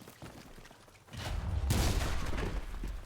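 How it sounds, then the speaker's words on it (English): A grenade blast followed by dense gunfire in the shooter game Enlisted: quiet at first, then a loud sudden burst that swells into heavy, sustained explosive noise. "Uh-oh, grenade!"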